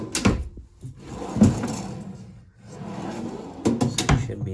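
Deep drawers in a camper kitchen slide open and shut several times, with rolling runner noise and sharp thuds as they close, close by and alone.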